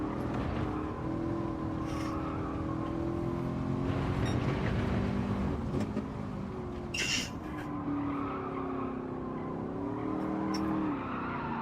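A Camaro SS with sports tyres in a racing video game, its engine droning and shifting pitch throughout while tyres squeal and skid in loud bursts, steady and close with no talking.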